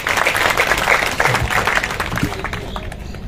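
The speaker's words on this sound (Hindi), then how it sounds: "जरा ताली बारी आप लोगों का" Audience at a religious satsang gathering clapping together in a steady burst of applause, loud and dense, tapering off toward the end.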